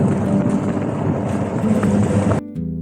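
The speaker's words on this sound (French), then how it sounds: "le Dodge c'est bruyant dedans" Engine and gearbox noise heard from inside a Dodge military vehicle, a loud, steady low rumble with wind-like roar that runs continuously and then drops abruptly near the end.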